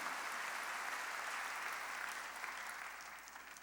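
A church congregation applauding during a worship service, a dense sustained clapping of many hands that holds steady and then slowly tapers off, heard from a distance without voices.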